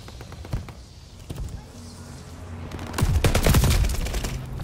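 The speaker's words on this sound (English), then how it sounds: "They're sending mortar shells." Mortar fire and gunfire in the Call of Duty: Vanguard video game: scattered bangs give way to a dense, loud barrage of rapid shots and blasts in the second half.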